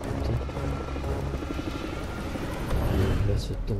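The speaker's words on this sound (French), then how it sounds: "Je vais retenter l'hélico." Video game helicopter rotor thrumming steadily and loudly throughout, rising slightly near the end, with a person talking over it.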